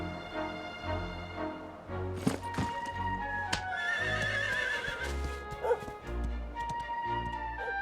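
Horse in the video game Dragon Quest XI gives a loud whinny around the middle, with hooves clip-clopping steadily and close throughout, layered over game music, with no talking.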